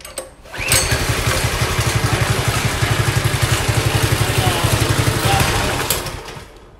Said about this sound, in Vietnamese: Chúng ta sẽ kéo le này và các bác giật thẳng người lên.